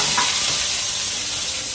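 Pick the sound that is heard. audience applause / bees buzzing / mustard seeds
mustard seeds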